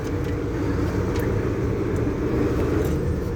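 A truck engine rumbles steadily and loudly as the driver shifts up a gear while pulling onto a main road during truck driving training, a continuous low drone with no voices.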